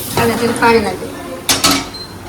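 A ladle stirs a cooking pot, making a few quick metallic scrapes and clinks against the pot's side, close and fairly loud. A voice speaks briefly in the background.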